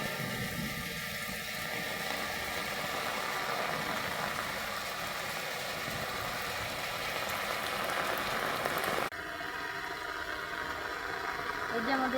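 Steady rain falls beside a pond next to a house, a dense continuous patter that stays even throughout, with a brief change in tone near the end.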